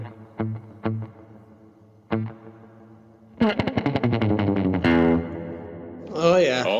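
Electric guitar played through an Earthquaker Dispatch Master delay and reverb pedal, several plucked notes with echo, then a fast strummed run washing into heavy reverb and a swirling wet tail.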